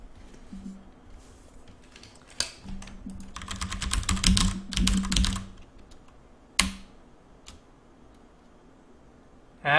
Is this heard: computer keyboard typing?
yes